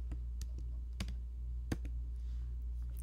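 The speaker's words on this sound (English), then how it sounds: "So we type Bernstein" Several sparse keystrokes on a computer keyboard, a few separate soft clicks close by, heard over a steady low hum.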